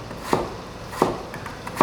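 A knife chops potatoes into same-sized pieces on a cutting board, three sharp, evenly spaced thunks standing out clearly against quiet kitchen background.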